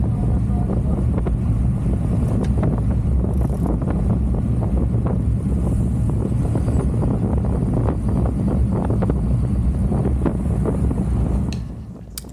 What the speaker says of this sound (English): We have very strong wind coming out of the west southwest.